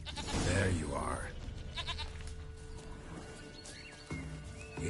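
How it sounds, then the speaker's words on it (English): A goat bleats loudly near the start in a video game set in The Witcher 3, followed by softer animal and ambient sounds, with a voice speaking over parts of it. "Here, goat."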